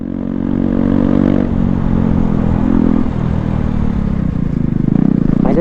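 A KTM Duke 250 motorcycle with a loud exhaust rumbles steadily at close range, its deep engine note rising into a throaty rev near the end.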